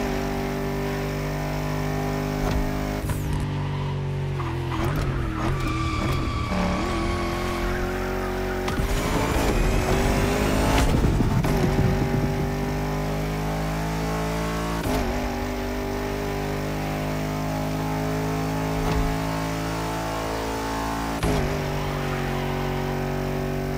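A Lamborghini Huracan's racing engine drones steadily in The Crew Motorfest, a sustained high-revving roar with shifting pitch, occasional gear changes and tyre noise, close and continuous with no talk.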